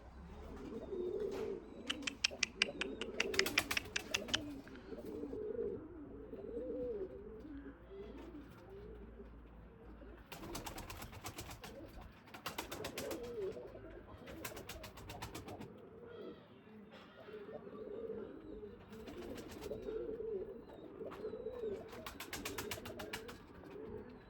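Pigeons cooing close by in a loft, low repeated throaty coos running throughout, with bursts of sharp wing-clatter and rustling in between.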